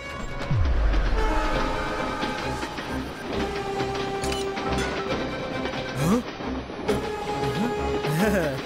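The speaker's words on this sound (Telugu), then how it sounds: "మీరు ట్రైన్ ని నడుపుతూ ఉండండి" A running train rumbles with rhythmic wheel clatter and a few rising and falling horn blasts, loud and continuous under a dramatic television-serial soundtrack.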